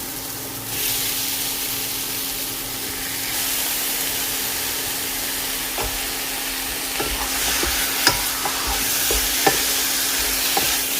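Country chicken stirred into softened tomatoes in a pot over medium flame, a steady sizzle with scraping spoon strokes and a few sharp clicks and knocks growing more frequent toward the end.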